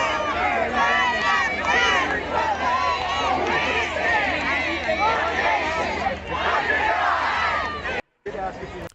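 A large crowd at a gathering in Dallas chatters and murmurs continuously, a dense loud hubbub with overlapping voices and occasional shouts, cutting out briefly near the end.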